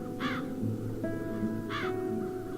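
Two crows caw in The Dark Eye: Chains of Satinav, harsh single calls spaced about a second and a half apart over a soft ambient musical drone.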